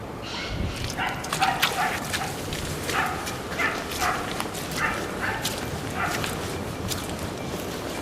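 Several hunting dogs barking and yelping at a distance in bursts during a boar hunt in Thrace, overlapping excited calls over outdoor background noise.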